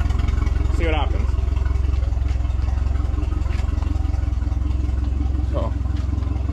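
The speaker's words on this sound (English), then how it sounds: "As you can hear, the motor's on." A boat motor runs at idle with a steady, close mechanical hum and light clatter throughout, while someone talks over it.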